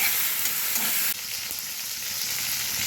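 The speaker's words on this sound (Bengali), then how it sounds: "খুব ভালোভাবে আমি ভেজে নেব যতক্ষণ টমেটোর কাঁচা গন্ধ না যায়" Chopped tomatoes frying in a pan for a crab bhuna, a continuous bright sizzle that steps down slightly partway through, with no talking.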